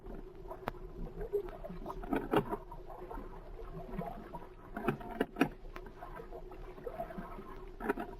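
A rowboat draws alongside on water at night, with soft irregular splashes, knocks and creaks of oars and hull, fairly close and faint, with no talk.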